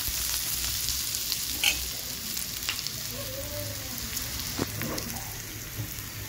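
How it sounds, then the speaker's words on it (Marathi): Chopped onions sizzle steadily in a hot pan, a close continuous crackle with scattered pops and occasional scrapes of a spoon stirring them around. "त्याला हलवते मी, लाल होऊ दे चांगला कांदा।"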